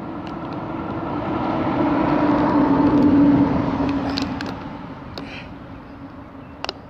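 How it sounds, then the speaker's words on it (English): A giant truck rolls past on a roadside, swelling from a distant rumble to a loud close roar at its peak and then fading away, with wind buffeting throughout. "Here comes another giant truck."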